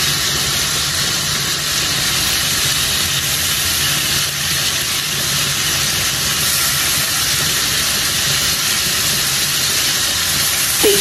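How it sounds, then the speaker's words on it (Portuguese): Tilapia fish sizzles steadily in a hot pan, a loud, constant hiss of grilling with no talking. "O peixinho tá grelhando ali"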